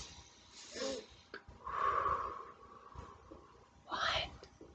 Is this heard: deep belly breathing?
yes